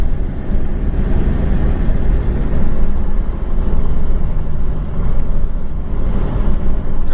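A 1970 Ford Torino GT pulls away under a continuous loud low engine roar with heavy wind buffeting, the drone rising and dipping as the transmission shifts.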